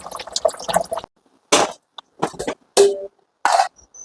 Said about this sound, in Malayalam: ഈ കുക്കറിനകത്തിലോട്ട് തന്നെ ഊറ്റാവേ.